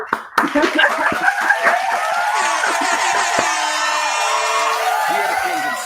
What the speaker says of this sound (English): Can we clap it up for Brandie Blaze real quick?